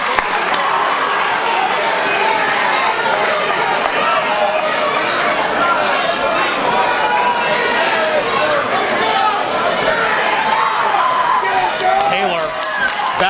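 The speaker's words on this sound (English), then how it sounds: "our capacity crowd at Franklin High School is loving it" Capacity crowd in a high school gym at a Franklin High School pro wrestling show, a loud, steady roar of cheering and chatter filling the whole stretch, with a few sharp thuds near the end.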